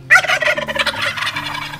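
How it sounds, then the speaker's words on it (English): A wild turkey gobbles once, close and loud, a rapid rattling call that trails off into quieter warbling over a low background hum. "Sometimes it's caught in a turkey's gobble."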